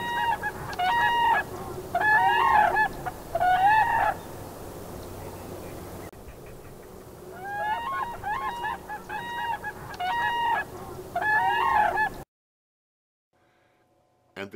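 Geese and ducks on Aransas and Matagorda Island on the Texas coast honking in repeated loud bursts, a few calls at a time, with a brief pause midway and near silence at the end.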